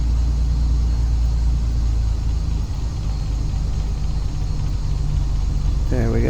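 A Piper Turbo Arrow IV engine idling at low RPM in a flight game, a steady low throbbing rumble with a constant droning hum, close and even throughout, with a brief rising tone at the very end.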